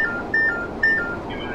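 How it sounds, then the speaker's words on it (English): GSM-R train cab radio emergency call alert in Train Sim World, a few short high electronic beeps repeating over a steady background hum. "That is the noise the GSMR radio makes when you receive an emergency call."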